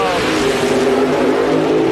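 Drag racing cars from the 1982 NHRA NorthStar Nationals rev their engines at the starting line, a loud, sustained roar with rising pitch that fills the whole stretch, with an announcer talking over it.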